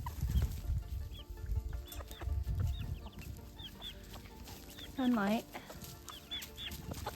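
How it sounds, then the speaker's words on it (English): Soft clucks from a barred rock hen with puffy cheeks, heard inside a barn over a steady background hiss. One louder call stands out near the end, and people talk quietly at times. "Look at that bird. It is a barred rock with puffy cheeks."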